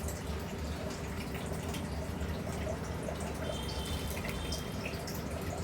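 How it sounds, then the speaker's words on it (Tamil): Water for cooking rava upma, salted in a pot and brought to a boil, gives a steady low bubbling and faint dripping hiss, continuous and moderately quiet with no talking. "இதை ஊற்றி நல்லா உப்பு போட்டு கொதிக்க வச்சுருவோம்"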